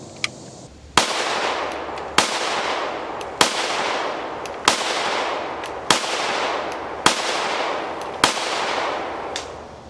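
A PSA Rock 5.7 pistol firing, eight sharp shots spaced evenly about a second apart, each loud and close with a long echoing tail, and no talking.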